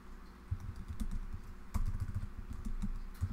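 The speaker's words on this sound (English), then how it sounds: "I'm not a fast typer when I'm talking and typing at the same time" Fast, irregular clicking of computer keyboard keys in a bursty typing rhythm, close and fairly quiet, with no voices over it.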